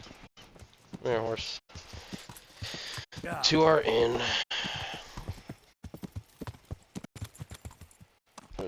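A horse clip-clops in the medieval role-playing game Kingdom Come: Deliverance, its hooves tapping in a steady walking rhythm that runs through the clip, while someone talks over it and the horse gives a brief snort.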